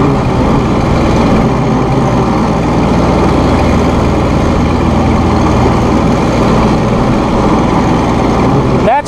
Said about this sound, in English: That's mowing with a RhinoAG FA513 Finish Mower.